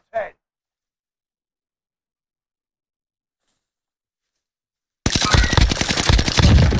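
Rapid automatic gunfire in Warzone starting abruptly after a long silence, a loud close rattle of quick repeated shots running to the end.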